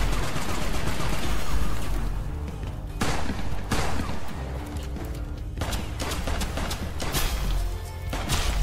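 Gunfire and ricocheting bullets in the West of Dead video game, a loud, dense fusillade of sharp cracks with several sudden bursts, continuous over a droning background.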